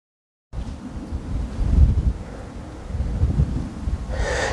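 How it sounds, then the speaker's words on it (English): Gusty wind over an open field buffets the microphone with low, rumbling roars that swell and ease in two broad surges, loud and close, with no voices. "And it's quite windy today as well, so I hope you can hear me"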